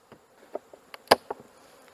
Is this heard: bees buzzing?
yes